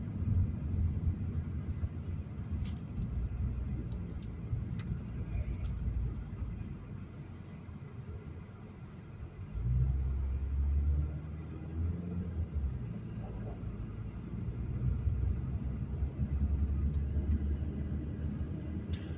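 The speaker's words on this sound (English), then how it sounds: "Take a drive up King Street here" A car drives up King Street, a city street, with a steady, moderately loud low road rumble that lasts throughout and swells slightly near the middle and again toward the end.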